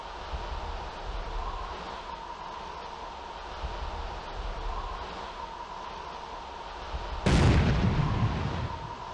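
A ship blows up in the Falcon 4 Allied Force (2005) flight simulator during a naval strike, a single loud, sudden blast that cuts through steady cockpit engine drone and then rumbles away over the final seconds.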